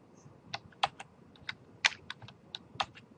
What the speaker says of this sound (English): It's a wireless keyboard.